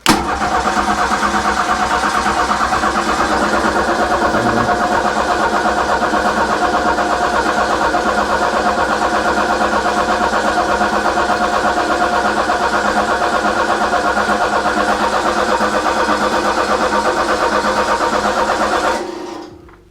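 A freshly built Ford 302 V8 runs steadily and loudly from start to finish, a continuous close engine drone with a constant level, cutting off at the very end.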